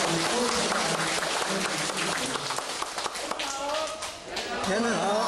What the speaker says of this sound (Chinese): 我们热烈掌声欢迎我们周前